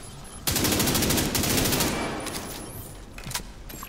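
A minigun in The Division 2 video game fires a loud, dense burst of rapid shots for about a second and a half, then its roar trails off into scattered cracks and fading rumble.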